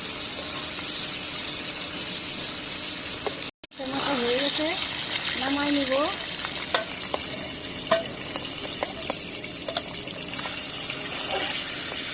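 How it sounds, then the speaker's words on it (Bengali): A rohu fish head rubbed with salt, turmeric and chilli fries in hot oil, giving a steady loud sizzle with small pops after a brief cut. A voice is heard briefly over the frying. "এখন তেলে বেজে নিব"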